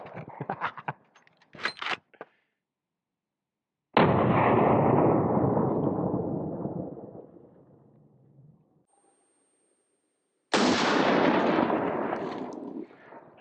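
An old Winchester rifle fires at a Level III+ steel armor plate, each sharp loud shot booming and rolling away into a long fading echo, with metallic handling clicks before the first.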